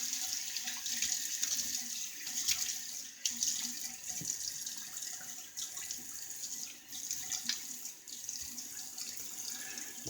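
Water running from a bathroom tap into a sink, a steady close splashing stream with small shifts as hands cup it to wet the face before a shave, no talking.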